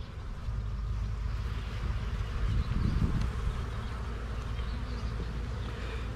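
Honeybees humming around an open hive frame with capped brood and honey stores, a steady low drone close by throughout, with no talking.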